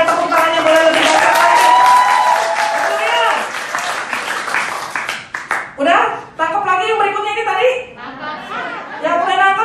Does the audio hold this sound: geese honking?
no